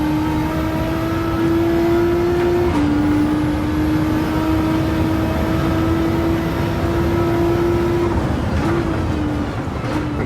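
Race car engine in Gran Turismo 7 holding a steady high-pitched drone at over 200 mph, with a brief dip around a gear change midway, loud and continuous with no talking.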